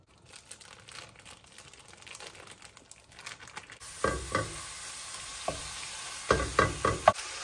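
Sizzling and stirring of a pound of ground beef browning in a pan on a stove, quiet at first, then louder with several sharp scraping stirs near the end.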